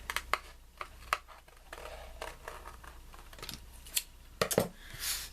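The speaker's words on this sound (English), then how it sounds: "That's also why I'm using the bigger scissors." Big scissors snip through paper in short, faint, irregular cuts and crinkles, isolated clicks scattered across a quiet background.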